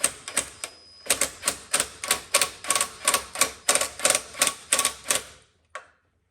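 A pneumatic or ratchet tool loosening bolts on a 2004-2008 Ford F-150 transmission pan, about twenty sharp rhythmic clicks in a fast steady series, then a pause and one final click.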